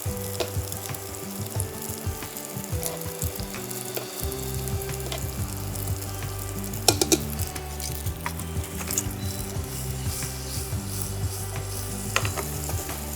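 Pancetta sizzles steadily in a hot pan for spaghetti carbonara while pasta is stirred, giving continuous close frying crackle with scraping stir strokes and a couple of sharper clinks, no talking.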